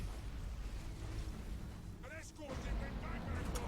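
A stasis bomb detonates in the space strategy game Battlefleet Gothic Armada 2, a rumbling burst with rising whooshing sweeps over constant loud battle noise, heard near and without talk.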